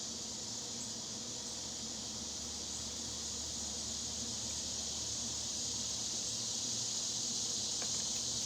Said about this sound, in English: Those crickets, they're, what are they called? Cicadas?